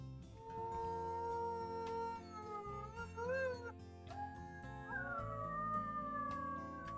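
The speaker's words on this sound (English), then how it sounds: "Aw, Lalila, you got a beautiful howl." Wolves howling in the WolfQuest video game, several long rising and falling tonal howls overlapping over about seven seconds, loud and close, with steady game ambience underneath.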